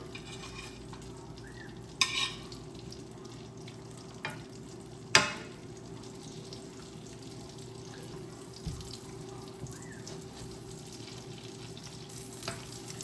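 Breaded steak pieces laid into hot oil in a home kitchen give a quiet, steady frying hiss, broken by a few sharp clunks and utensil knocks.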